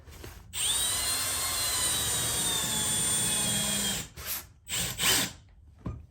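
A power drill drives screws into a quarter-inch plywood subfloor in a bathroom. A steady, loud whine runs for about three seconds, then a few short, sharp bursts follow as the screws seat.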